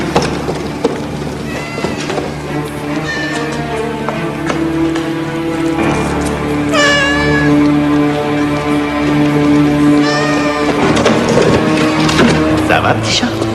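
A small cat in a 1997 animated Robin Hood series gives a few drawn-out meows, rising and falling, over a busy, loud backdrop of music and clattering.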